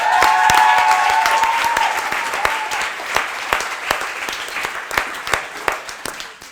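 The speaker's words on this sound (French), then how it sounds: "je vais vous demander un tonnerre d'applaudissements pour Minimalister." An audience at a pitch night bursts into loud applause that gradually thins into scattered claps, with a voice briefly audible at the start.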